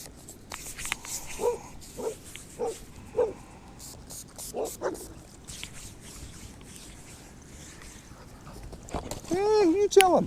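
Dog barks a few times up close, scattered short bursts against a quiet outdoor background, with people talking and calling over and between the barks.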